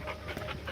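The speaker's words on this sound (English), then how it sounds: "Oh, a little dog fight here." A dog pants rapidly and rhythmically at close range, with quick regular breaths over steady outdoor background noise during an early morning hike.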